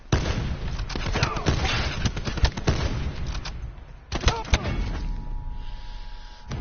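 Dense bursts of rapid gunfire and booming shots from a Black Ops 4 match, loud and continuous with heavy low thumps, fading into quieter game ambience near the end.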